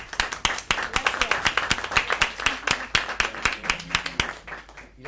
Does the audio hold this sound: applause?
yes